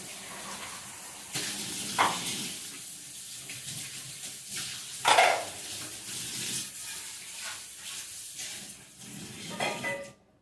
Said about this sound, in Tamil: இந்த மிக்ஸி ஜார்லாம் உங்கள்கிட்ட பேஸ்ட்டு கழுவிட்டு வந்துடுறேன்